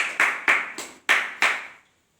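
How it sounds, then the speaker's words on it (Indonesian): A classroom gives a brief round of clapping for group 1, with about six separate, sharp claps in an uneven rhythm. The claps are close and moderately loud, then stop. "beri aplaus kepada kelompok 1"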